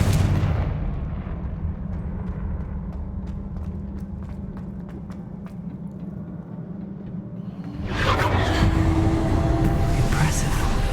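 A Confringo fire spell detonates in the Hogwarts Legacy video game, a steady low rumbling blast bed swelling louder near the end with a burst of crackling debris, loud and sustained.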